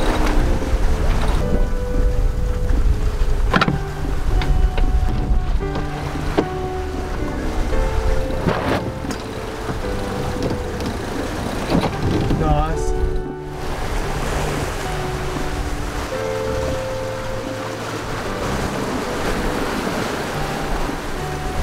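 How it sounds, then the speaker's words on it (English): Strong 25-knot wind and rushing waves surround a sailboat at sea, with constant wind buffeting on the microphone, splashing surf and occasional creaks and knocks from the boat. "The wind's picked up, it's about 25 knots."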